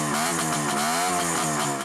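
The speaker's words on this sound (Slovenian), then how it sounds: "Ko so se enkrat prižgali motorji" Motorcycle and go-kart engines roar at a motorsport day in Vransko, with a loud, steady revving drone that fills the whole two seconds and no voices.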